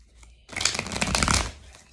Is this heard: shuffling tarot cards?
yes